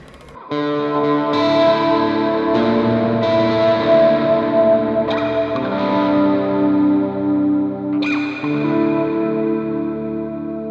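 An electric guitar plays through the built-in reverb of a Lekato Tank G multi-effects pedal, sounding sustained chords that bloom into a washy, ambient tail, with fresh strums every couple of seconds and no talking.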